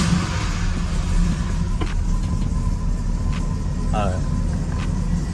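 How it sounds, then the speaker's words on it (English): A G-Body car's engine rumbles steadily at idle, a loud low drone filling the scene, with a brief voice and faint clicks over it. "I'm gonna try to make this car as loud as I can."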